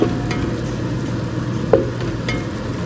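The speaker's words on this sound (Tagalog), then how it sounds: "Pinapakuluan ko lang muna siya." Meat boiling in a pot for soup, a constant hiss and bubbling close by, broken by a couple of faint clinks and one brief sharper knock.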